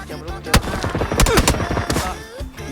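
Rapid bursts of gunfire in PUBG crack loudly in quick succession, a dense rattling volley with brief gaps between bursts.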